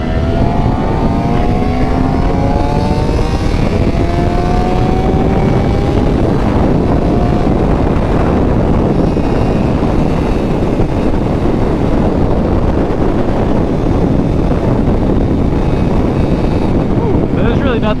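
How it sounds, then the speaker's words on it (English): A Suzuki GSX-R 600 with stock exhaust is ridden out in the open, its engine note climbing as it revs up, then settling into a loud, steady drone under heavy wind rush. "I have a stock exhaust on the bike."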